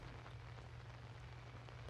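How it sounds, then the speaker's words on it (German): Rain falls steadily in the horror video game Outlast, a faint, even patter with a low rumble underneath and no voices. "Hier sind Regentropfen."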